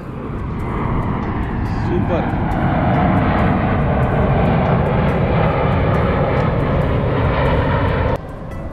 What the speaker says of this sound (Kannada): ಒಂದು ಫ್ಲೈಟ್ ಇವಾಗ ತಾನೇ ಲ್ಯಾಂಡ್ ಆಯಿತು ನೋಡಿ.